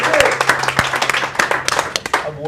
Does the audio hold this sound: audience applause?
yes